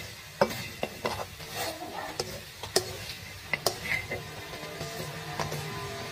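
Pancit guisado noodles with vegetables are stir-fried in a pan, with soft sizzling under repeated sharp taps and scrapes of the utensil against the pan, and a voice is heard faintly in the background.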